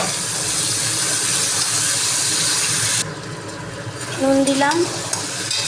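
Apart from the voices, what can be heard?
potatoes, onions and tomatoes frying in hot oil with spices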